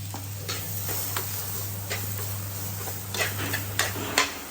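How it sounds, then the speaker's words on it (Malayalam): Grated coconut fries in oil and a little water in a clay pan, giving a soft continuous sizzle under a low steady hum, with scattered scraping ticks from stirring that grow sharper toward the end. "ചട്ടിയില് വെള്ളം ഒഴിച്ചിട്ട്, എണ്ണ ഒഴിച്ചിട്ട് തേങ്ങ ഇട്ട് വറക്കാനായിട്ട്"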